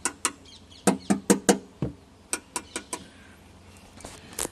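Thin, baseless sheet-metal boot floor of a Maruti Baleno tapped by hand, a dozen light, hollow knocks in uneven bursts, close and fairly quiet.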